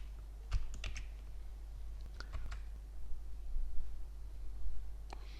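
Computer keys clatter in short, scattered bursts as a formula is edited in an Excel spreadsheet, with quiet gaps between the clusters of taps.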